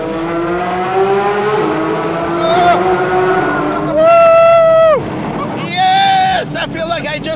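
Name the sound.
Porsche 992 GT3 RS exhaust accelerating in a tunnel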